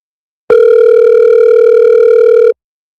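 A telephone line tone sounds as one steady, loud electronic beep lasting about two seconds, close and clean with silence on either side, as an outgoing phone call is placed.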